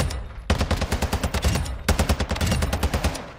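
Full-auto bursts from an FN HAMR 7.62 rifle in Call of Duty MWII, two sustained strings of rapid, evenly spaced shots, loud and close, separated by a brief pause.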